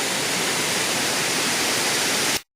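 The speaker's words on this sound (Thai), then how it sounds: "วันนี้จะพามาชมน้ำตกตาดใหญ่ครับ" Tat Yai waterfall in Nam Nao National Park roars with a dense, even rush of falling water, loud and steady until it cuts off abruptly near the end.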